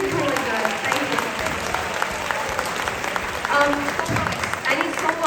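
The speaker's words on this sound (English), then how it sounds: "Give them one more round of applause." Audience applause for a high school choir at a Christmas concert, a dense steady wash of clapping from a crowd with voices mixed in.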